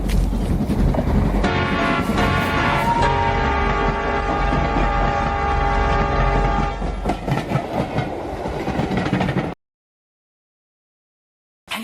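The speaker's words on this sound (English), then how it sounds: "Come on, here, train's coming." A train rolls along railway tracks, its wheels clattering with a rhythmic clickety-clack and a steady metallic hum that builds and swells, loud and close, before cutting off abruptly into silence.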